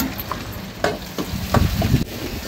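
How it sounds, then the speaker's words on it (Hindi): Fenugreek seeds, dry chili and onion go into hot oil left over from frying pakoras, giving a close, crackling sizzle with sharp spatula scrapes and clatters throughout. "तेल गरम हो गया, पकौड़ी उतर गई है, अब डाल दिया मेथी सूखी मिर्च और ये है प्याज।"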